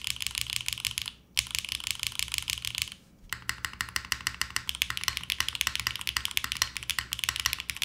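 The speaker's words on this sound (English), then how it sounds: "Classic top mount Macchiato HMX switches" Steady, close typing on an LZ CLS SE keyboard with a classic top mount, Macchiato HMX switches and an FR4 plate. Crisp, rapid keystrokes run almost continuously, with two short pauses early on.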